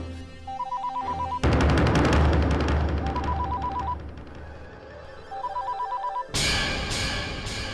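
Home landline telephone ringing in repeated electronic trill bursts, cut by a loud dramatic music sting and other sound between rings, with no talk.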